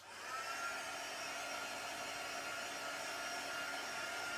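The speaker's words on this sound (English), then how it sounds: "give it a quick blast with the heat gun" Heat gun blowing hot air over freshly stamped acrylic paint on an upcycled glass plate, a steady, loud broadband whoosh that runs alone without a break.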